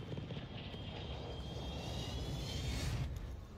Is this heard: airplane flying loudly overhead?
yes